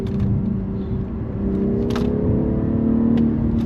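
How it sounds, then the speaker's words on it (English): A BMW M340i's straight-six engine hums smoothly from inside the cabin, a steady, even drone with a slight rise in pitch, accompanied by a few light clicks. "I mean, you can't beat this straight six though, it's so smooth."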